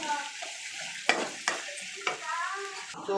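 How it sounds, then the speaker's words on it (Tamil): Onions and curry leaves sauté in a pan for chicken kulambu, with a low sizzle and a few sharp spatula scrapes and taps, close and fairly quiet. "இப்போது இதில் கருவேப்பிலை கொஞ்சம் வெங்காயம் போட்டிருக்கேன். இது வந்து நல்லா பொன்னிறமாக கொஞ்சம் நல்லா வதக்கி எடுத்துக்கலாம்"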